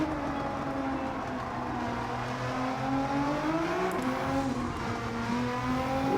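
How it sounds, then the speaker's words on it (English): In Gran Turismo 7, a Gr.4 Mitsubishi Evo race car with a swapped-in GT-R engine drones at high revs, its engine tone rising and shifting steadily as it accelerates, with no talk over it. "first experience with the now GTR swapped Evo"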